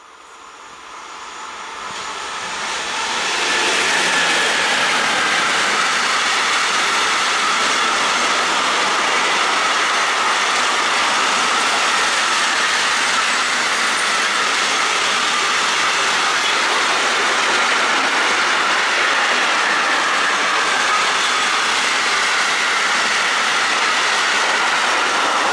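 A freight train roars through Lohr am Main station, rising from quiet to a loud, steady rumble and rush of wagons that stays close and continuous for over twenty seconds.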